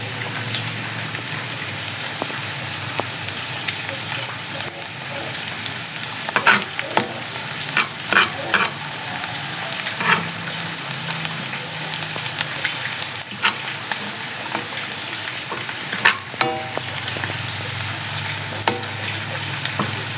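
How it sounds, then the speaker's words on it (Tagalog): Garlic frying in a pan until light brown, a steady close sizzle with occasional stirring scrapes and spatters across the whole stretch, no voices. "Hintayin natin mag light brown yung garlic natin guys."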